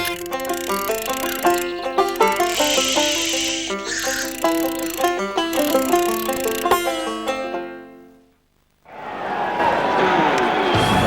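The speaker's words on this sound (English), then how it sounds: "Big crowd, close to capacity" Big stadium crowd close to capacity, around 13,500, at an Australian football match in Darwin between West Coast and Essendon, a loud continuous roar with sharp surges that drops to near silence, then swells back.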